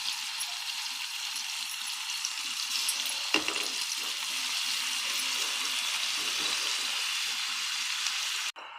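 Onion and tomato fry in hot oil in a pan, giving a soft, continuous sizzle with faint stirring clatter, close by and steady throughout, with no voices.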